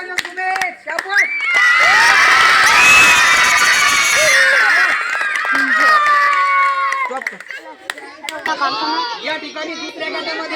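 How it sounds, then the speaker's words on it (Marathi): A crowd of children at a game competition cheers and claps for a winning participant named Sumit, loud and close, with shouting voices swelling in the middle and scattered claps and chatter continuing afterward. "चला सुमितसाठी टाळ्या झाल्या पाहिजे"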